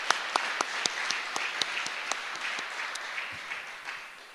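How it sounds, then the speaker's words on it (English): Modest audience applause at a Ford technician training program open house, a few distinct sharp claps standing out over steady clapping that slowly fades. "Give them a round of applause too."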